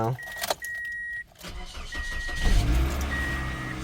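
A Chevy Impala engine cranks and catches, then settles into a steady idle close by, after a few faint clicks and rattles.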